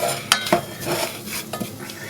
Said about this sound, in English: a couple of dessert spoons of gravy mix, stir that through